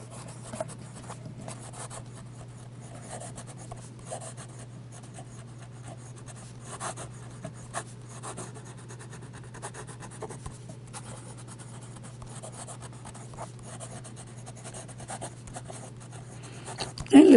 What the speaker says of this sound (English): And some fast writing.